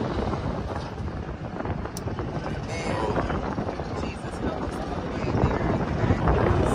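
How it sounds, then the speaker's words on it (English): Strong wind blasts across the microphone at a large amusement park, a loud continuous roar that surges and builds toward the end. Excited voices exclaim over it. "Oh, this wind!"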